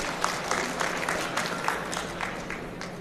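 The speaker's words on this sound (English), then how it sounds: "So let us give him a big applause." An audience at a medical conference gives a steady round of applause, many hands clapping together at moderate distance, even and continuous throughout.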